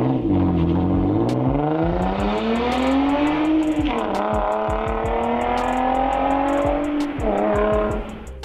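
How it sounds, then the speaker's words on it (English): An Infiniti G35 with a VQ V6 revs hard, its raspy, distinct exhaust note climbing in pitch through several rising pulls and shifts, close and loud with no talk. "the VQ lineup of motors has a very distinct exhaust note to it"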